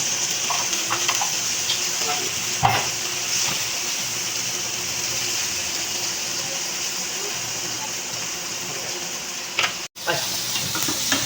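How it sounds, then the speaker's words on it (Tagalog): Onions fry in a pan and are stirred, giving a steady, close sizzle with occasional scraping clicks from the utensil and one sharp knock near the end. "medyo luto na yung sibuyas natin"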